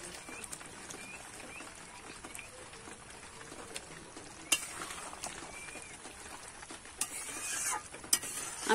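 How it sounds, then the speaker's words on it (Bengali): Potato curry cooked in goat fat with garam masala is stirred in a pot, with quiet scrapes and clinks of the spoon over a soft simmering bubble. "এবার একটু নাড়িয়ে নেব।"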